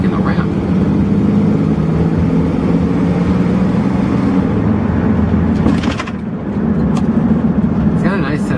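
Ford F-150 pickup truck engine running in third gear while driving, a loud, steady low drone with road rumble inside the cab and a brief dip partway through.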